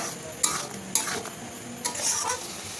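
Spices get stirred into sweet and sour mango pickle in a pan, with several sharp utensil scrapes and clinks against the metal over a light sizzle.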